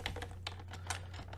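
Fingers type on a computer keyboard in quick, close, irregular keystrokes over a steady low electrical hum.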